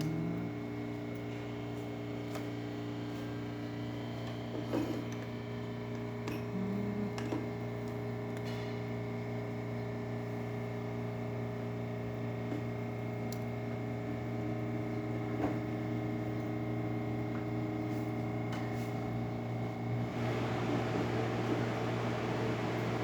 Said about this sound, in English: Now let's test the steamer function of this machine.